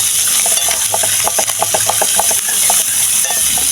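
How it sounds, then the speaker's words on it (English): Saltfish frying in a pan over high heat, a loud continuous sizzle and hiss with rapid rhythmic stirring scrapes running through the middle, close up and alone. "Yeah, saltfish are fry up."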